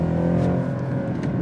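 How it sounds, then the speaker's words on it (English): A Mercedes-Benz C63 AMG V8 engine drones with a deep, steady rumble from inside the car, holding a low, even pitch for a brief moment with no talk over it. "Listen to that V8."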